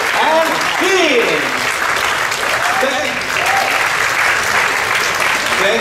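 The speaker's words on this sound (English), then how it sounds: "A big round of applause!" Enthusiastic audience applause fills a mentalist show, loud and steady clapping throughout with a shouted voice and crowd cheers mixed in near the start.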